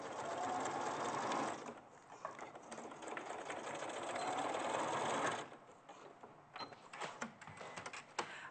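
A sewing machine stitches a bag seam in loud, steady whirring bursts, with a pause and softer mechanical clicks between runs.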